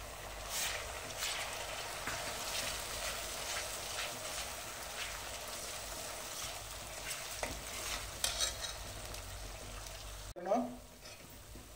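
Ginger-garlic-chilli paste fries with onions in a pan for Kolhapuri misal, a soft steady sizzle with frequent light scrapes of the spoon and a brief clatter near the end, fairly quiet and without talk.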